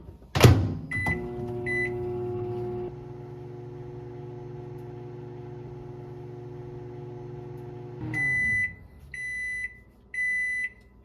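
A microwave oven heats food topped with mozzarella cheese: a door clunk and button beeps, then a steady low running hum for several seconds, followed by a string of three loud, evenly spaced completion beeps.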